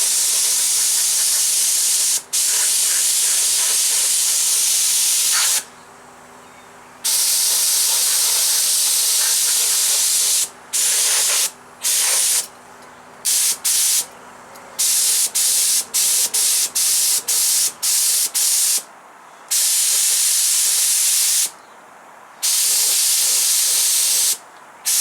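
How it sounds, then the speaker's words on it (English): An air compressor feeds a cheap spray gun laying down enamel paint, giving loud bursts of spraying hiss broken by frequent short pauses, with the compressor humming steadily underneath in the first part. "Compressor's just come in."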